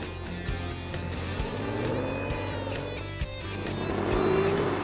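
A Holden VL Commodore Walkinshaw with a twin throttle body fuel-injected V8 and 5-speed gearbox drives steadily, its engine a continuous, fairly loud rumble with rising revs toward the end.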